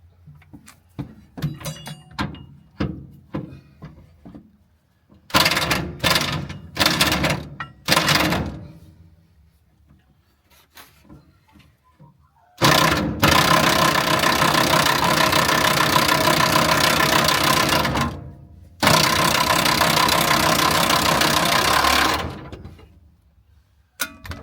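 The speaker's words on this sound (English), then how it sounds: "spare tyre winch with the good old Kita rattle gun" Bursts of a Makita impact wrench rattling on a truck's spare tyre winch, loud and close, in two long sustained runs after some scattered clanks and knocks; no talking.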